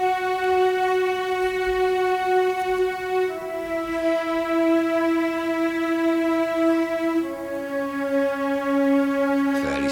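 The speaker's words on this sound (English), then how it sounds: "when you do orchestras, you do have to pre-compose them" Pre-composed orchestral layer played in a live electronic music set, sustained bright chords holding steady and shifting pitch a couple of times, smooth and continuous with no talking.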